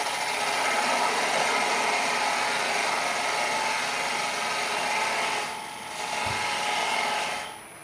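Wood spins on a woodturning lathe while a tool squares off the end, a steady close rasping hiss over the motor's drone, briefly easing twice near the end.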